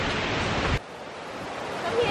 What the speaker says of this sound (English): Look at these rushing waters.